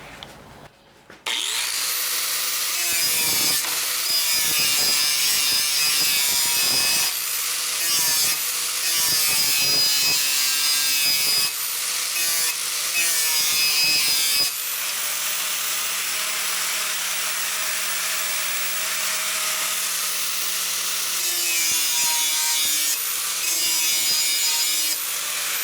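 Steady abrasive grinding on the end of an 11 gauge steel patch panel, putting a bevel on the edge, loud and continuous with a few brief pauses and restarts, no talking.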